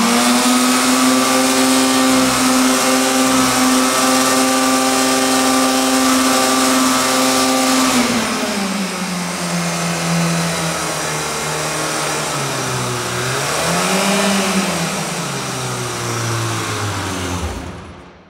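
A car engine revs hard and steady at full throttle while stationary, held until the brakes overheat and smoke. A loud sustained drone holds for about eight seconds, then the pitch drops and wavers through a couple of swells before cutting off.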